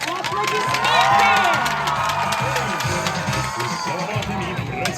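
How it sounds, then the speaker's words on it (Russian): Crowd at a summer camp evening gathering cheers and whoops with dense, continuous noise and scattered clapping, loud and close throughout, with shouting voices mixed in. "Аплодисменты!"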